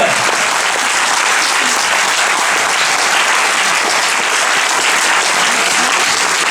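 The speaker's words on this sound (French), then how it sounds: "On applaudit très très fort Madame Elsa Ziekorstein." A packed cinema audience at a film premiere in Aix-en-Provence applauds loudly, a dense, unbroken roar of clapping that holds steady throughout.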